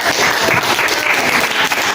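A classroom audience applauds after a group presentation, dense steady clapping filling the whole stretch at full loudness with no voices over it.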